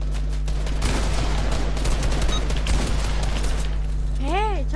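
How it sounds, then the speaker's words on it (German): Several players firing at once in a video game: a dense, continuous barrage of gunshots with bursts and pops, loud and steady throughout, with a constant hum underneath and a rising electronic tone near the end. "Und wieder drei Leute auf mich schießen."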